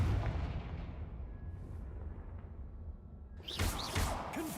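Confringo fire spell blasts in the video game Hogwarts Legacy: a deep booming explosion that rumbles and fades, then a sharp second blast with whooshing, crackling flames near the end.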